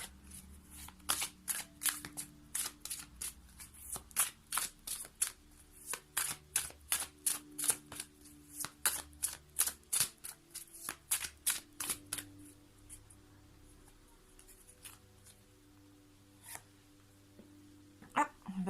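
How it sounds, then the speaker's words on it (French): Tarot cards shuffled and drawn, a long run of quick riffling bursts in a steady rhythm, close and clear, thinning out toward the end with a few scattered card flicks and a faint low background hum. "Ah, j'ai pris 2 cartes."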